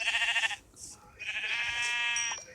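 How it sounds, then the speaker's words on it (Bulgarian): A sheep in Minecraft bleats twice in quick succession, loud and close, with a brief pause between the two wavering calls. "Ето, например, овцата."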